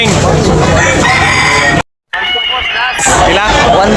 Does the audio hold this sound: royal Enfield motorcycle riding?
no